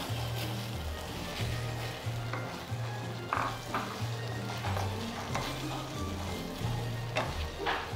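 A splash of water hits chicken cooking in a hot pan, setting off a steady sizzle with stirring scrapes, all under background music.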